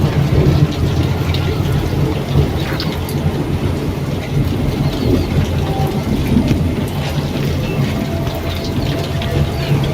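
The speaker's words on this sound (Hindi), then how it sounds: "बारिश जो है वो शुरू हो चुकी है" Steady rain falls outdoors near a stairwell, a dense even patter that holds at a constant level throughout, with faint low rumbling underneath and no voices.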